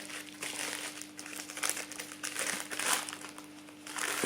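Plastic packaging crinkles and crumples steadily while a Vinted parcel holding a book is unwrapped, with dense rustling bursts close by and no talk.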